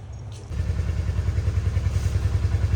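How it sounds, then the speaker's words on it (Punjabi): A motorcycle engine catches and settles into a steady, loud, thumping idle right up close, with no talking, in Manali. "ਮੋਟਰਸਾਈਕਲ ਕਰ ਲਿਆ ਜੀ ਆਪਾਂ ਸਟਾਰਟ"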